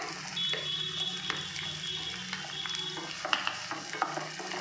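Onions and green chillies frying in a pan, a steady broadband sizzle with occasional stirring scrapes and small pops, close and continuous, no talking.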